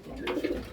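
A pigeon in a loft gives a single short, soft coo, close by and alone.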